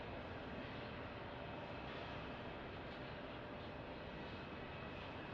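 An airliner flies in on approach to Phoenix Sky Harbor airport, heard as a steady, broad, distant jet roar that holds evenly throughout, with no talking.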